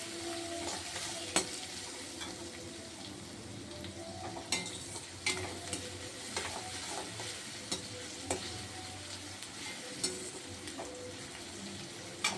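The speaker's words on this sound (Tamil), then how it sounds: "கருவேப்பிலை போட்டுக்கலாம் பூண்டு எடுத்து வச்சு சின்ன வெங்காயம் நல்லா வதக்கிக்கலாம்" Small onions, garlic and curry leaves are stirred and sautéed in a pan for appalam kuzhambu, giving a steady low sizzle and soft frying hiss broken by light scraping taps of a spoon, quiet and with no speech.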